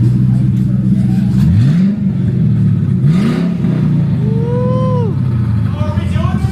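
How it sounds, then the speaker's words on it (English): A Ford Crown Victoria fitted with a custom bumper revs hard nearby in a loud, rumbling engine roar with two rising throttle blips and sustained idle, while people talk over it outdoors. "press the gas a little bit for him"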